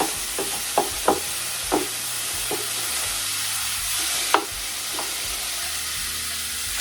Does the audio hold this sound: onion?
yes